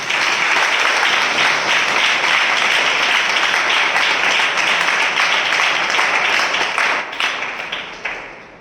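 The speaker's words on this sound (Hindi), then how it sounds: "हम जोरदार तालियों से उनका स्वागत करें।" A church congregation applauds loudly and continuously, dense clapping that fills the space for several seconds before thinning out and fading at the end.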